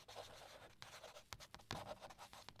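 A pen scratches across paper in short, uneven strokes, close and quiet, with small pauses between bursts of writing and no one speaking.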